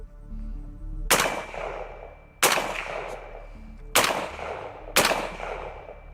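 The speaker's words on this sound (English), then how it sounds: "I am going to do some single shots, and then we are going to go ahead and actually do some center of mass shots" Four sharp, loud single gunshots crack out at roughly one-second-plus intervals, each with a short ringing decay, fired outdoors on a shooting range with no talking between them.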